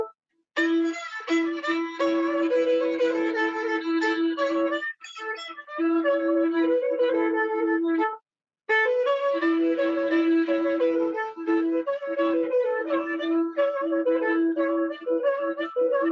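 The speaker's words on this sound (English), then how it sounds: "the locals play the bordon, a type of stopped flute" A Bulgarian bordon, a stopped flute from Dobrucha, plays a steady folk melody with a strong, breathy low fundamental, sustained over long phrases and broken by two brief pauses.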